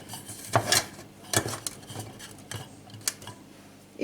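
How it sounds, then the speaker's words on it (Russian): A lid set onto a steamer pot of fish and vegetables: several close metallic clinks and knocks at uneven intervals, with faint rattling between them. "Закрою крышкой."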